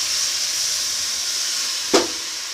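Water poured into a hot pan of browned pepper powder for milagu kashayam makes a steady hiss of steam, with one short, sharp sizzling burst near the end and no talking.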